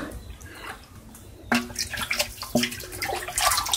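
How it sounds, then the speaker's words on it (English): Water poured from a bucket over a person standing in flip-flops on gravel in an outdoor shower area of a house in Cambodia, a sudden splash followed by a second pour and continued spattering, fairly faint with no talking. "then gets more water and pours it over oneself while standing wearing flip-flops on this gravel"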